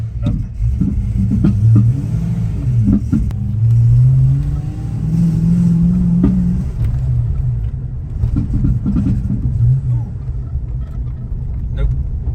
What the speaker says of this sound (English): Well, misfire hasn't gone.